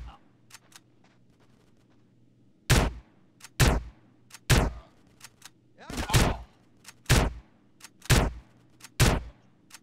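Gunfire from the video game GTA San Andreas beta: about eight sharp, loud shots in an uneven rhythm over a low steady background hum, with fainter cracks in between.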